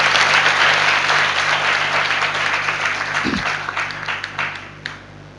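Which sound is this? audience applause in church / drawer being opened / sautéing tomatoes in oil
audience applause in church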